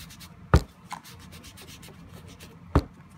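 Distress ink worked by hand onto a faux-leather book cover, two sharp rubbing swipes standing out against a faint, steady scuffing background, close and quiet with no talk.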